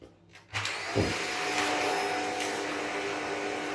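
A Shark NZ801UK vacuum cleaner on its hard floor setting starts up loudly on tiles, a steady high whirring roar that holds after a brief quiet start, with spilled rice being sucked up.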